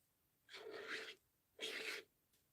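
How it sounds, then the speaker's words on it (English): Material scraped off the inner side of a nearly empty jar during mixed-media art work: two quiet, gritty rasping strokes, the first about seven-tenths of a second and the second shorter, with silence between and no talk. "And I'm just kind of scraping it off this side."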